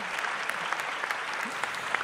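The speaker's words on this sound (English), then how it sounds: "Let's give our panel a round of applause" Audience applause for a panel at the close of a World Metrology Day symposium, a steady wash of many hands clapping at moderate distance, fairly faint, with no voices over it.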